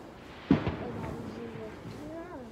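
A single sharp bonfire night firework bang goes off outdoors at a distance, with a decaying rumble, while people chatter and react nearby.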